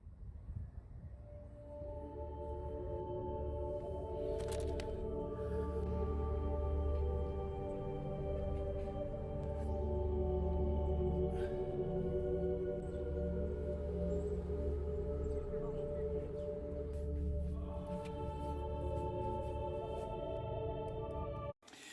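A music track plays quietly: sustained, layered ambient tones with soft chiming accents drift on without a break for about twenty seconds, then stop abruptly at the end.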